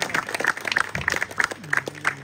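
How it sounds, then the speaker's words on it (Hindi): Audience applauding to welcome ground staff at a seniors' shield ceremony, with a short burst of mixed claps and crowd noise. "इन्हें खूब तालियों से वेलकम करें"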